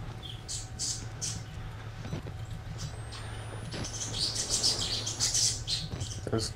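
Birds squawk and chirp in the horror video game Outlast: scattered high calls build toward the end over a steady low ambient hum, moderately loud and a little distant.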